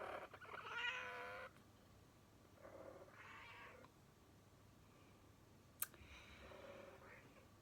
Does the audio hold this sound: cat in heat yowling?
yes